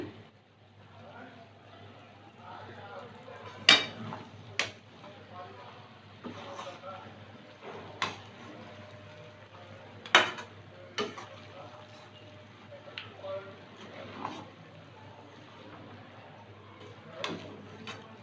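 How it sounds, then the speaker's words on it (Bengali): Ghee and garam masala being mixed into a pot, with scattered sharp clanks of a spoon on metal and quiet scraping over a faint low hum, sparse and close. "ঘি গরম মশলাটা একটু মিশিয়ে নিলাম"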